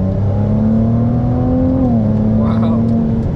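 A Ferrari 296 GTB supercar drives on the Sepang circuit, its engine holding a steady droning note that dips slightly, with a brief higher whir late on, heard from inside the car.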